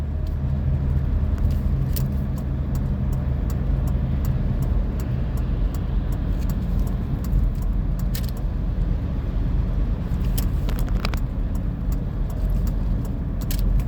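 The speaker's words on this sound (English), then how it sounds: "See, I let those two cars go by" Steady road traffic rumble as two cars pass by, a continuous low engine and tire drone at moderate distance with no talk.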